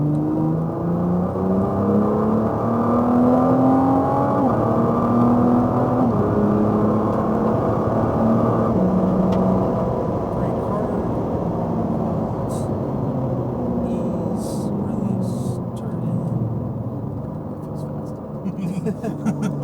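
A Nissan GT-R accelerates hard around a track at Speed Vegas, its engine and drivetrain whining and rising steadily in pitch. An instructor's voice coaches from inside the car over the noise.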